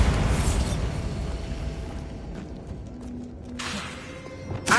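In Hogwarts Legacy, a Confringo fire spell lands with a booming blast that fades into rumbling debris, followed by a couple of sharper bursts and a final thump near the end.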